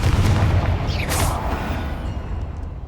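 Bombarda and Confringo spell blasts go off inside a tomb in Hogwarts Legacy, a loud deep booming explosion with a rumbling tail and a quick whooshing burst, close and heavy.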